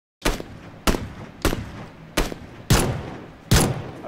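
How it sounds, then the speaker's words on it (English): Six loud, sharp SKS rifle shots in a video game, spaced roughly evenly about half a second apart, each with a short decaying tail, with no talking over them. "I hit him twice with the SKS"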